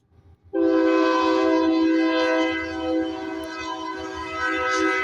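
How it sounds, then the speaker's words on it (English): A train sounds a long, loud horn blast that starts abruptly and sustains for several seconds with a slight dip in the middle, over low rumbling from the passing train. "There goes the train"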